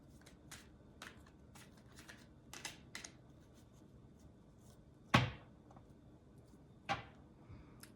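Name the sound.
shuffling tarot cards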